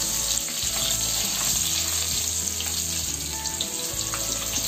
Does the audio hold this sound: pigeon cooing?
no